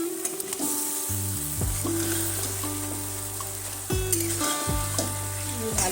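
Chicken leg pieces fry in oil in a Bengali-style lemon chicken roast, a steady close sizzle and crackle with stirring scrapes throughout, and no talking.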